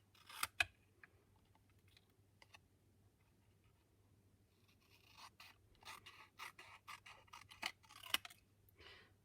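Scissors snip through paper card pieces in short crisp cuts, a few isolated snips early and then a denser run of close, quiet clicking cuts toward the end.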